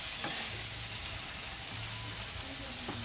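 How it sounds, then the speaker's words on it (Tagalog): Pork sautéing in a hot oiled pan gives a steady, close sizzle with light stirring scrapes throughout, and no talking is heard. "then saute the pork until it slightly changes color, or it has a brownish color"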